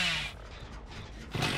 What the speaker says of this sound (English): Say hello to my little chainsaw friend.